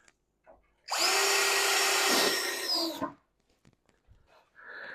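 Power drill driving a screw into a wooden bench brace, one loud whirring burst of about two seconds, close up, with faint handling knocks before and after.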